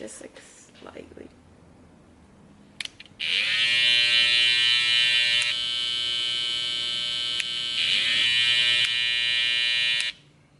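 After a few quiet handling noises, a Babyliss Pro FX Skeleton hair clipper switches on with a loud, constant electric buzz and whine. It runs close and steady for about seven seconds before shutting off.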